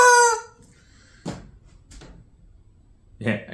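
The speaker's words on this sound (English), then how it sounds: "Rubber chicken." A rubber chicken toy lets out a loud, short squawk, then the clip falls quiet apart from a few faint knocks and a second brief noisy burst near the end.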